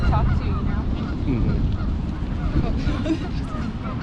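Birds call nearby outdoors with repeated goose-like honks, mixed with wind noise on the microphone and quiet background chatter.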